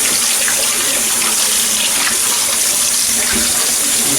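Hot water runs steadily from a tap, a loud, continuous rushing splash close by that carries on without a break.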